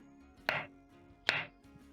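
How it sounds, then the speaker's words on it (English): A knife chops through plantain on a cutting board, two sharp, close strikes about a second apart over quiet background hum, with no talking. "When done chopping up your plantain"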